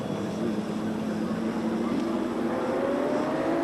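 Race cars at Amaroo Park circuit in 1989, engines droning steadily with a rising pitch as a car approaches, heard from trackside alongside a commentator's voice.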